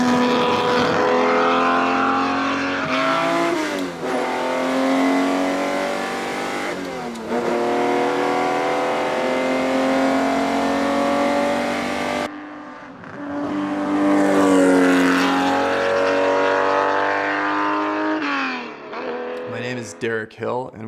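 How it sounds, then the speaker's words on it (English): A 1964 Ferrari 250 GTO Series 2 roars loudly as it is driven, its engine blaring from the exhaust in sustained rising and falling revs, with a brief lull partway through before the howl returns. "the engine and the sound blaring out the back"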